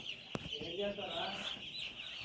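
Chickens in a poultry farm shed make soft clucking sounds at moderate distance over a steady high whir of fans, with one sharp knock near the start and faint voices mixed in.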